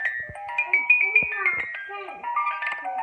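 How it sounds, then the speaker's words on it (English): A small music box plays a plinking, bell-like tune, close and clear, with someone talking over it. "And this is just a music box."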